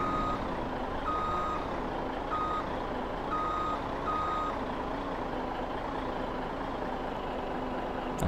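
A truck in Farming Simulator 17 gives a steady run of evenly spaced reversing beeps over a continuous engine hum, with no talking.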